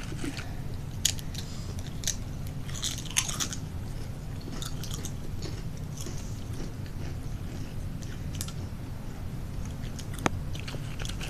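Bacon snacks crunched and chewed by people close up, with scattered crisp bites and soft mouth noises over a quiet room hum, no talk.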